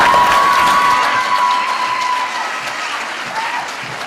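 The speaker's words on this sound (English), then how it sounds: "Give him a big round of applause." Audience applause at a live show for entrepreneurs, with cheering, loud and dense at first and then slowly tapering while still going strong, with a high whistle-like tone over the start.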